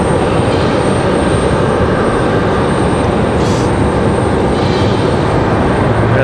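Frontier airliner on approach to land at Raleigh-Durham airport, a loud, steady broadband jet roar filling the scene throughout, close and unbroken, with no talk.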